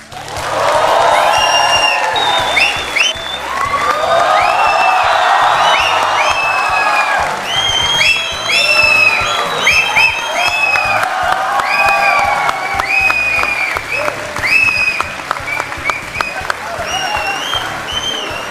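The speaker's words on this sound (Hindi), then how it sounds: "और ये तालियां बजते रहें" A large studio audience claps steadily and loudly on a television talk show, with scattered whoops and cheers rising above the applause throughout.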